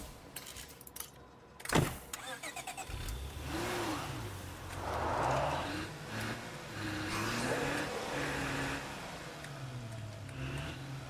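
Car engine starting and revving in the video game State of Decay 2, a jangle and thump of ignition then a steady, moderately loud engine drone that rises and falls over several seconds.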